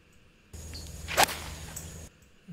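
A golf club swung on the ninth hole, one sharp swish and crack of the ball strike in the middle of a brief low rumble, heard close and alone.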